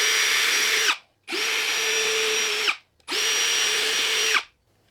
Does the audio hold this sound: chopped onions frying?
no